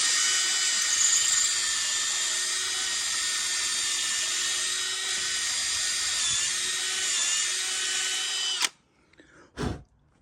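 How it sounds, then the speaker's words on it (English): A high-pitched power drill with a long bit whines steadily for over eight seconds drilling through epoxy into an engine water jacket, then stops abruptly, followed by a brief loud burst and a short second whir. "I'll drill them all right through the epoxy into the water jacket"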